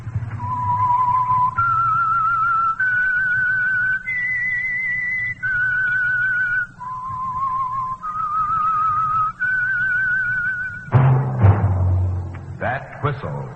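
A whistled theme tune for The Whistler, the Signal Oil radio program: a lone, clear whistled melody of sustained notes in rising and falling phrases over a faint low hum, ending with a few soft thumps.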